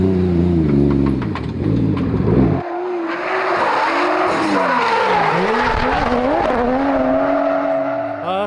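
Freshly bought, built-up tuned car lapping a drift track in Japan, engine loud and close from a low rev note into a wailing, shifting pitch with sustained tire squeal and skidding throughout, voices barely audible underneath.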